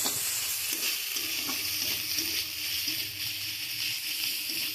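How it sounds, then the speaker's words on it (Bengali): Onions frying with ginger paste for a Bengali mutton curry, stirred in a pan: a steady, dense sizzle runs throughout with soft scraping strokes of the spoon, fairly close and with no talking. "একটু ভাজা ভাজা করে নিচ্ছি আদা বাটা দিয়ে পেঁয়াজটাকে।"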